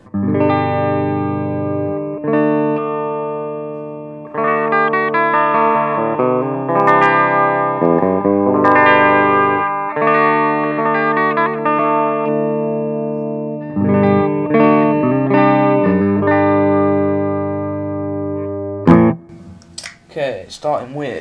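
Clean electric guitar notes and chords ringing out through a Marshall amp, sustained and clear, ending with a short burst of speech.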